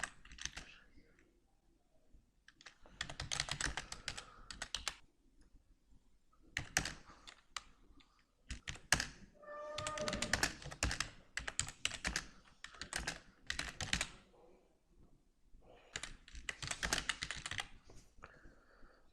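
Typing on a computer keyboard while writing in a word processor, with bursts of quick, close clicking keystrokes separated by short pauses, fairly quiet and with no talking.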